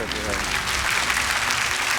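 A studio audience at a KBS television broadcast bursts into applause, a short, even wash of many hands clapping at once with no pauses.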